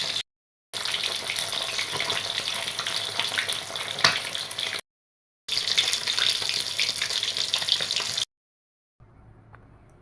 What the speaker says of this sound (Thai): ใช้น้ำมันถัวเหลืองทอด